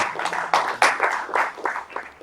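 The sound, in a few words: applause for the sponsors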